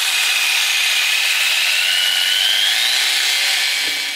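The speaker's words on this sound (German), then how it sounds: "zum Aussägen nehme ich einfach mal hier so eine kleine Stichsäge hier von Proxon ist die" A small Proxxon jigsaw cuts through wood, giving a steady, loud high-pitched buzzing whine that holds for about four seconds with a slight rise in pitch, heard alone without talk.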